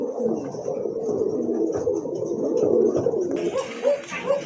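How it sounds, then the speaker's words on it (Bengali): Racing pigeons, a pair of active sky-blue or green-coloured birds on a large farm, coo in soft repeated low murmurs close by, with a few brighter calls and a burst of rustling near the end. "আরেক জোড়া কবুতর রেসার কবুতর, এটা হচ্ছে আপনার আকাশি কালারের ভিতরে বা সবজি কালারের ভিতরে, মাশাআল্লাহ অনেক সুন্দর, কিন্তু খুবই অ্যাক্টিভ কবুতর আর খুব ভালো ডাকে"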